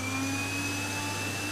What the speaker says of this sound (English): So I'm starting the vacuum cleaner.